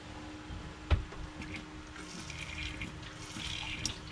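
Water runs from a foot-pump faucet in a Ford Transit van conversion, fed by a hose from a 5-gallon jug, with a sharp click at the start and then a faint uneven trickle and splash, no talking.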